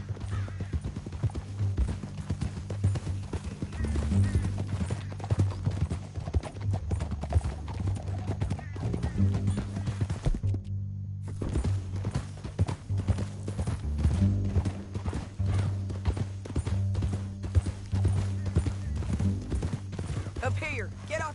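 Horses gallop in the Red Dead Redemption 2 video game, a loud, continuous stream of rapid hoofbeats with a low rumbling bed, briefly dropping out near the middle before resuming.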